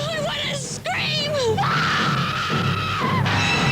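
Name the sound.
screaming in a film trailer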